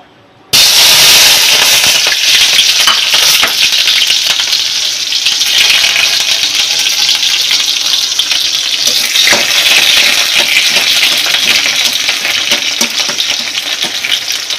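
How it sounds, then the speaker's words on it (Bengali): Hilsa fish and brinjal sizzle loudly in hot oil, a dense, steady frying hiss that starts abruptly after a brief silent moment and continues without pause, with small crackles and spatters throughout. "এই যে নিয়েছি বেগুন দিয়ে ইলিশ মাছ রান্না করব"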